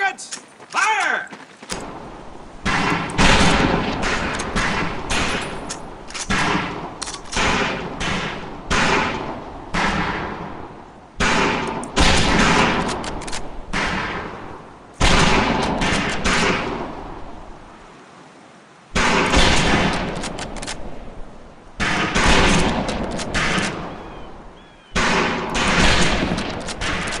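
Rifle fire at a shooting range in Medal of Honor: Pacific Assault, loud repeated shots and bursts with mechanical bolt clatter across the whole stretch, separated by short pauses, with talk in places.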